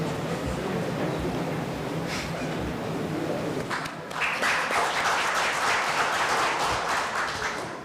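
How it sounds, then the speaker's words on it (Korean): A forum audience welcomes its chairman with applause. The first half is fainter and more scattered, then the clapping swells into a fuller, louder burst for the remaining seconds. "큰 박수로 환영해 주시기 바랍니다"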